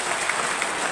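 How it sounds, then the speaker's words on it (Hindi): Crowd applause at a public gathering in Bhilwara, Rajasthan, attended by NCC officers: a steady, close wash of many hands clapping throughout the short moment, with no voices on top. "एक बार जोरदार तालियां हो जाए उन्हीं के लिए।"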